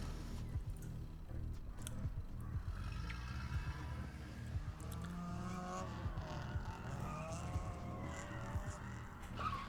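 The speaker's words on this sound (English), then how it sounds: "Car noises." Steady engine rumble with revving, tire noise and scattered game sound effects running throughout, fairly loud and continuous.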